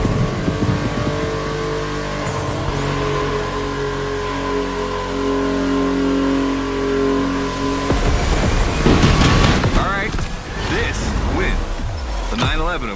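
A Porsche 911 racing in The Crew Motorfest video game: a loud engine holds a sustained high drone, then revs and shifts through climbing gears in the second half, with talk partly over it.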